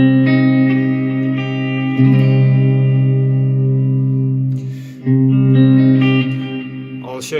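Electric guitar barre chord rooted on the 5th string, strummed loud and close three times, each chord sustaining with reverb and slight distortion before the next strike, no voice over it.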